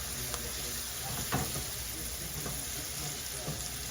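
Garlic and oregano cooking in a pan, a steady soft sizzle and frying hiss with occasional faint stirring knocks, continuous and fairly quiet throughout.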